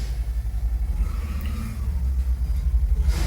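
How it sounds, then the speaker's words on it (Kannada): A vehicle engine idles and rumbles steadily outside a building, a low muffled drone with slight pulsing, heard at moderate distance without talk. "ಅಲ್ಲಿ ಗಾಡಿ ಸೌಂಡ್ ಬರೋದ್ರೈತೆ ಹೊರಗೆ"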